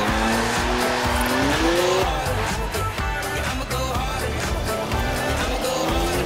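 A BMW drifting in Forza Horizon 4, with loud sustained tire squeal over a revving engine whose pitch climbs and falls, continuous skidding noise filling the whole stretch.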